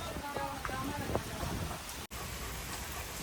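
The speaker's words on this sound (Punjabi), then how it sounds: "ਮੀਂਹ ਪੈਣ ਡਿਆ" Steady rainfall hissing continuously at moderate volume, with a few faint knocks and a brief dropout partway through.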